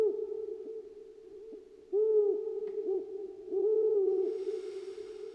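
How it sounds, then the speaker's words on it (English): An owl hoots softly and steadily in a quiet setting, a low tone that repeats with slight rising swoops and grows a little louder partway through, with no voices. "let the owl sound guide you to the places that you want to easily release"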